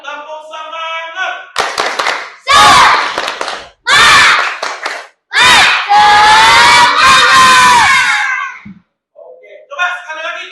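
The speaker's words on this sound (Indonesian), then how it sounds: "Tepuk semangat." Classroom of children performing a 'tepuk semangat' chant, rhythmic bursts of group clapping alternating with loud shouted call-outs, led by a male teacher's voice at the start and end.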